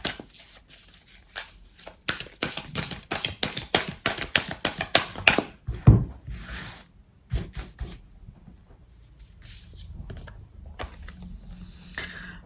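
Starseed Oracle cards being shuffled by hand, a fast run of crisp riffling flutters and slaps for about five seconds, then a few quieter bursts of card handling, close and clear with no talking.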